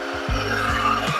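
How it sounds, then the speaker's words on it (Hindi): A Royal Enfield Guerrilla 450 motorcycle engine starts up and settles into a steady, loud idle with a low rumbling pulse, close by and alone. "बाइक स्टार्ट करके चलते हैं बाहर"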